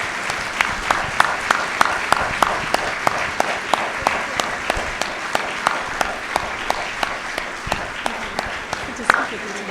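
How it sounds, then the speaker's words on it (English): A college roundtable audience applauds its four panelists with a sustained, even round of clapping from a sizable crowd in a hall, sharp hand strikes standing out steadily over the wash, with a faint voice underneath. "Please join me in a round of applause for our 4 panelists."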